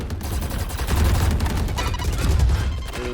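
Rapid, loud gunfire from the tactical shooter Valorant, with sustained bursts of shots rattling continuously throughout, with no talk over it.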